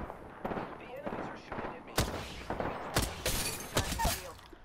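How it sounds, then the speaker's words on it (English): Several sharp sniper rifle shots in a video game crack out in a loose sequence over a busy background of game noise, with voices talking underneath. "One down with snipe shots."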